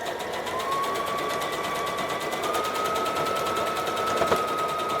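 A sewing machine runs steadily for several seconds, a fast even rattling hum with a faint whine, stitching across fabric and over pins while sewing a top.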